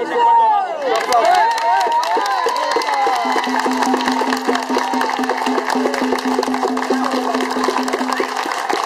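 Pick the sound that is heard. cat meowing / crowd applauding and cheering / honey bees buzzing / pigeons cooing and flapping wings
crowd applauding and cheering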